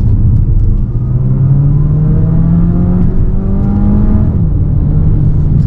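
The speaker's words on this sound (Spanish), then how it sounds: "Eso es todo lo que escuchamos, el motor de combustión en el interior de este DS4." Combustion engine of a DS 4 E-Tense plug-in hybrid in Sport mode under full-throttle acceleration, heard from the cabin: a loud, steady droning hum whose pitch climbs slowly, dips briefly, then holds, with constant road rumble beneath.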